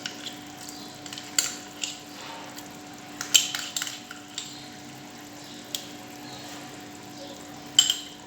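A spoon stirs mafé, a peanut sauce made from peanut paste mixed with water, in a pot, giving soft scattered scrapes and clinks over a quiet simmer with a steady low hum beneath.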